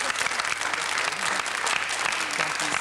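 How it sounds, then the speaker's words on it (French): A French TV game show studio audience claps for contestants, a thick, continuous wash of applause throughout, with a faint voice murmuring beneath it. "ils ont bien besoin d'être applaudis"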